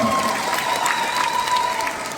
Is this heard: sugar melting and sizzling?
no